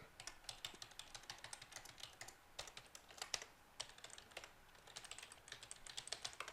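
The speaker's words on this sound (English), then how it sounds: "Hopefully I'm typing right." Steady typing on a computer keyboard, rapid clicking keystrokes in quick bursts with brief pauses, close and clear, no talking.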